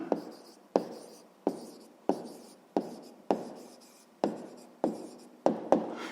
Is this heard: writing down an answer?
yes